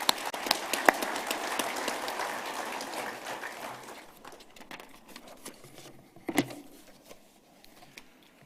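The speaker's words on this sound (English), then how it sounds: "let's give them all a great hand of applause" A conference audience at an agricultural congress applauds, with dense, steady clapping that swells at the start and then gradually thins and fades to scattered claps, one sharp burst late before quiet.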